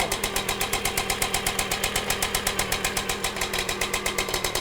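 A restored Aprilia two-stroke engine running, loud and close, with a fast, even, pulsing putter that keeps going throughout.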